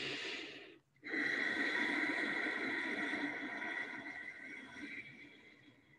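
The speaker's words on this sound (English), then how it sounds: "it's like you constrict the very back of your throat, squeezing that windpipe to make the same sound" A breathy ujjayi ocean-breath exhale through a constricted throat comes loud and close after a short pause, a long hissing rush that slowly fades. A person makes the sound with their own breath to demonstrate the technique.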